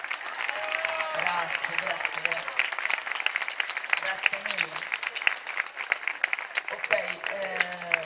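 An audience claps steadily as a singer bows on stage. The applause is continuous and fairly close, and a voice speaks repeatedly over it.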